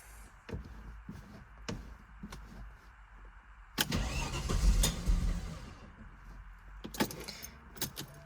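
A Peugeot 604 V6 Ti is started with its keys: small key jingles and clicks come first, then a burst of starter cranking and rumbling, and more clicks follow, all close by.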